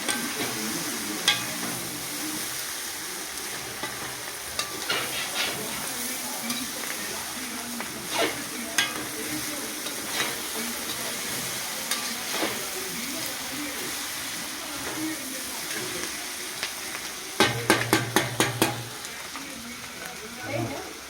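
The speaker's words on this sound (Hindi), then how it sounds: "इसको थोड़ा भूनना पड़ता है।" Chicken fries in a pan, cooked desi style without garlic, onion or oil, with a low continuous sizzle and occasional spoon scrapes, then a quick burst of sharp clatters near the end.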